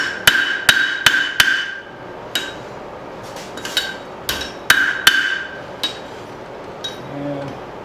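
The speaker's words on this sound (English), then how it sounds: "Let's get this more of a 90-degree angle. Alright, use the back of the anvil here." Hot steel struck with a hammer on the back of an anvil while forging a bird feeder hanger, ringing metallic blows in quick clusters then spaced out, loud and close.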